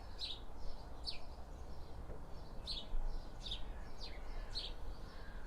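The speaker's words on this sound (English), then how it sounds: "Listen to that bird." A small bird chirps in quick, bright bursts every second or so over a faint low outdoor hum in a back garden.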